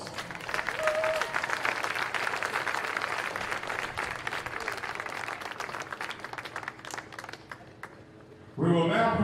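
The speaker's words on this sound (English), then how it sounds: "Let's give everyone a round of applause" A crowd at a college baseball tournament gives a sustained round of applause that gradually thins and fades, before a voice begins speaking over a public address system at the end.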